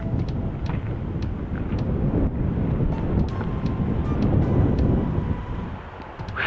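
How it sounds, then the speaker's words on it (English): Strong wind buffets a microphone outdoors at a railroad museum, producing a loud, continuous low rumbling roar that swells and eases over several seconds. "it is windy"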